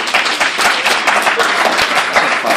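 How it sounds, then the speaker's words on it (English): A room full of people at an anti-bullying program event gives a round of applause, dense rapid clapping that stays loud and steady throughout. "so if you guys would give them a round of applause as well."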